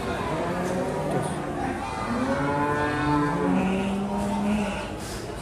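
A female Simmental-Charolais cow lows in long, drawn-out moos at the Sukorejo livestock market in Kendal, set against a busy backdrop of market chatter and other cattle.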